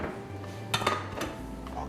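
Clanks and clinks ring out as a frying pan is handled in a home kitchen during cooking, a few sharp metallic knocks against a low steady hum.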